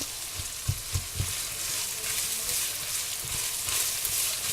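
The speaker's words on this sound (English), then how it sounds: "So, get your onions in there and broken up." Onions frying in a pan for all-American goulash, a steady bright sizzle with a few soft knocks and stirring bumps early on, close and constant with no talking.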